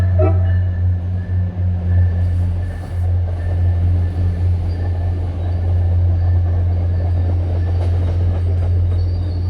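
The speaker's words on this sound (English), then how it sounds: "You can hear the Winchester commuter rail sound." A Winchester commuter rail train passes Winchester Center station, a loud, continuous rumble of rolling wheels and cars that holds steady throughout, close by, with no talking.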